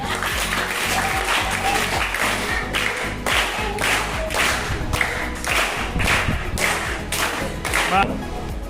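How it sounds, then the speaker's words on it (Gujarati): A group in a classroom game claps in several bursts of rhythmic hand claps, loud and close, with brief pauses between rounds. "તારા ઉપર 3 તાળી પાડીએ"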